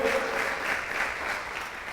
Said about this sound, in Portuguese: Dá um aplauso aí